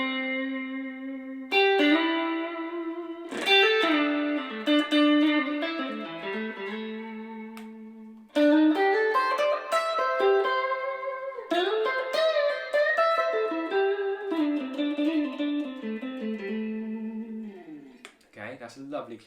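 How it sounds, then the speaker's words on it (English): Clean electric guitar played through a Yamaha THR10IIW desktop amp with plate reverb, chords and single notes ringing out loud and alone with a lush, lingering tail across the whole passage. "So this was just a lovely clean sound I've set up with a nice amount of sort of plate reverb"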